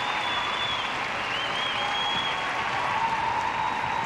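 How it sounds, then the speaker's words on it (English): A large, partisan Canadian arena crowd applauds steadily and warmly after a women's short program skate at the 2006 World Figure Skating Championships. "An appreciative, partisan Canadian crowd salutes Vancouver's Mira Leung."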